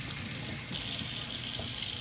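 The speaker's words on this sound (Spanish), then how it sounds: "Les ponemos agua." Water runs from a tap into a pot for cooking tomatillos in a home kitchen, making a steady rushing stream that grows brighter and louder partway through, with no talking.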